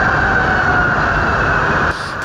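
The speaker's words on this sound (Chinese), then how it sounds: "停机坪上警报声大响，" An alarm blares continuously on the apron at Haneda Airport as a Japan Airlines Airbus A350 burns after colliding with a coast guard plane on landing, a loud steady wail over dense roaring background noise.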